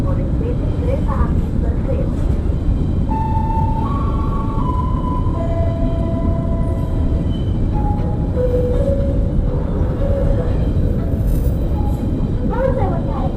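Long Babaranjang coal freight train rolling past, a loud continuous rumble with horn or warning tones drifting in pitch, heard close from near the tracks.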